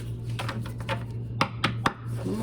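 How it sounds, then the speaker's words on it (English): A deck of oracle cards being shuffled by hand gives a run of light, papery riffling ticks that end in three crisp, louder snaps, close by with no talking. "One more shuffle here."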